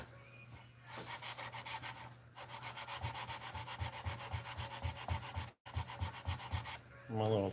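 Steady rhythmic rubbing of sandpaper on wood at a wobbly temporary sanding spot, the strokes repeating close and clear with a brief pause midway.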